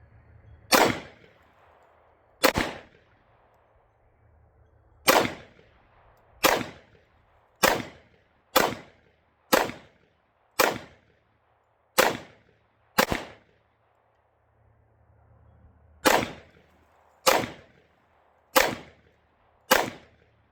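Fourteen sharp, loud pistol shots from a Smith & Wesson M&P 2.0 4.6 in 10mm, fired at a bullseye target at seven yards, come in irregular bursts with short gaps and a longer pause midway, each with a brief ringing decay.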